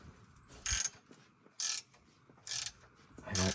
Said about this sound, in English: Ratchet and wrench